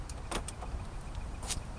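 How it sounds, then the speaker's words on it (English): A 2006 Infiniti FX35 unlocks with a few quiet, short mechanical clicks and clunks from the door lock, close by against faint background hiss. "Let's unlock the door."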